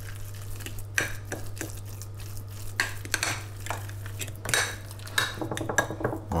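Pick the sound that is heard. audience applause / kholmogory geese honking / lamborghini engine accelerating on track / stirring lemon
stirring lemon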